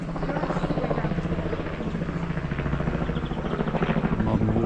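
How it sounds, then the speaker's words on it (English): A modern helicopter's rhythmic rotor thudding chops steadily overhead a house and garden at Raixa, Mallorca, loud and close, with a continuous engine drone underneath. "A very modern helicopter up above."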